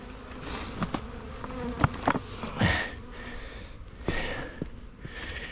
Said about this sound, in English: So annoying. Go away, wasp.